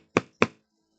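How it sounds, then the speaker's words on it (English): Two sharp knocks on wood, made by a reader acting out a knock at a door, fall in quick succession about a quarter second apart, close and clear against silence. "I just did a standard knocking noise."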